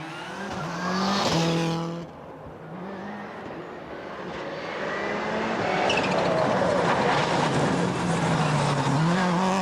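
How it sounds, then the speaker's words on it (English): A rally car arrives on a tarmac stage at Millbrook during a British national stages rally, engine revving and gear changes rising as it nears, then a loud sustained roar as it drives round the corner close by. "waiting for the first car to arrive, and it actually is arriving right now"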